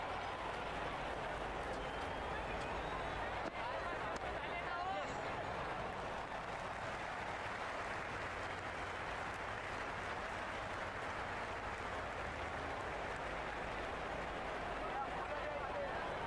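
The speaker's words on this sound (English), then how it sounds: "Will you listen to that crowd? They are loving this." A loud, dense stadium crowd roars and cheers continuously at a cricket match in the Cricket 26 video game, a New Zealand versus Sri Lanka World Cup Super 8 game, with steady broadband noise throughout and faint commentary beneath.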